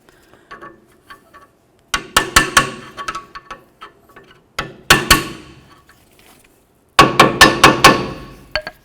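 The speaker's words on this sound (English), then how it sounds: "your hammer just keeps bonking up against the rotor" A hammer strikes the rusted rear brake rotor of a 2004-08 Ford F-150 in quick bursts of sharp, ringing metallic blows, loud and close, separated by brief pauses.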